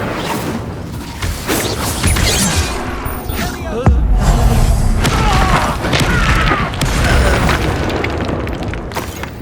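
Incendio fire spell blast in the PS5 game Hogwarts Legacy: a sudden heavy boom lands near the middle, then a sustained loud roar of combat noise continues through the rest of the clip.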